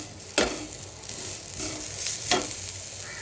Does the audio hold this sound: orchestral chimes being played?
no